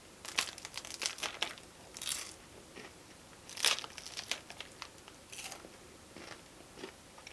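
Close, crisp crunching and biting on a Jeju specialty snack, with irregular bursts of chewing and crinkly textures repeating over several seconds and no talking.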